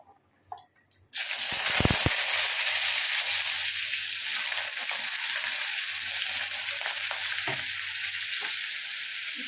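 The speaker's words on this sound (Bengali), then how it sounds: "এবার এই ছোট্ট ছোট্ট করে কেটে রাখা আলুগুলো আগে ভালো করে ফ্রাই করে নেব।" Small diced potatoes fry in hot oil in a pan. After a few clattering knocks, a loud, steady, hissing sizzle starts and holds without a break.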